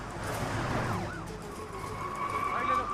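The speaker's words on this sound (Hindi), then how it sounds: "पुलिस की गाड़ी आ रही है, जल्दी।" Police car siren wailing over street traffic noise, its rising and falling tone coming through fairly clearly.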